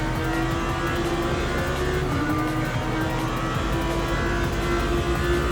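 Race cars in Le Mans Ultimate launching from the race start, a steady loud roar of engines revving and accelerating with rising pitch, several cars blended closely together with no talk.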